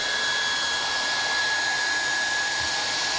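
Hot air plastic welding gun feeding a welding rod through a speed nozzle down a miter onto a spatula, giving a steady, close, airy hiss that holds unchanged throughout with no talking.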